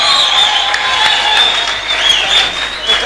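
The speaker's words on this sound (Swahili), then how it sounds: "Wapi makofi mazuri?" An audience at a public gathering in Kenya claps continuously, a dense and fairly loud burst of applause that lasts the whole stretch.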